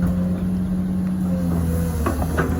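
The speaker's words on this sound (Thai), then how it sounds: "แต่ว่าเป็นเครื่องหกสูบนะครับ" A six-cylinder diesel engine of an XCMG XE215C excavator rumbles steadily nearby while dredging a creek, a loud, even drone with a few mechanical clanks near the end.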